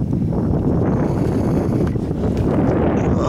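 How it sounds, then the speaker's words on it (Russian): Strong wind buffets the microphone in a loud, continuous low rumble with gusty fluctuations throughout, outdoors during metal-detecting for coins. "Так, сильный ветер."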